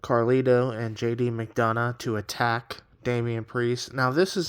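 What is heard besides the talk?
None of the usual background noises is heard.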